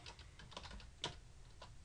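Quiet typing on a computer keyboard while entering a file name, a few soft key taps with one sharper click in the middle, no talking.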